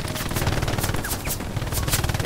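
Rapid automatic gunfire in the World War II shooter Hell Let Loose, a dense continuous rattle of bursts at moderate distance with no talking.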